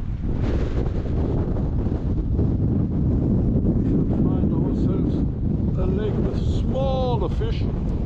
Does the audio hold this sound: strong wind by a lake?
yes